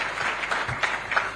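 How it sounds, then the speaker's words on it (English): Brief applause from a room audience at a presidential address in Zambia, a short burst of scattered clapping. "I think we must clap for those provinces"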